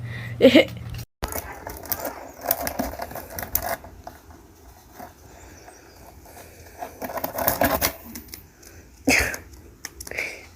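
Pet bird shredding crinkly pink paper inside a foraging box, giving irregular bursts of close rustling and tearing with brief clicks and pauses between.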